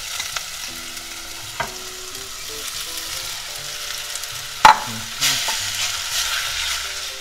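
Wild herbs frying in olive oil with garlic, a close steady sizzle broken by a few sharp clatters of stirring against the pan.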